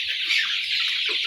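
Forty-day-old brown chickens clucking in a coop: a dense, continuous chorus of many birds chattering and clucking close by, loud and steady with no talk.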